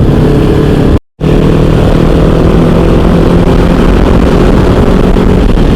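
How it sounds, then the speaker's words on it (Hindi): A loud engine drone and wind roar fill a highway ride in Uttar Pradesh as a cruiser motorcycle races behind a Royal Enfield Bullet, broken by a brief cut before the steady roar resumes. "एक क्रूजर बाइक है मेरे पीछे और बहुत देर से रेस लगाने की कोशिश कर रही है"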